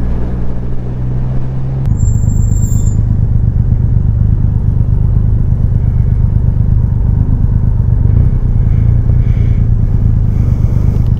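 Triumph Rocket 3 R Black Limited Edition motorcycle riding along, a steady loud engine drone and road rumble throughout, with a brief higher whine near the start and no talking.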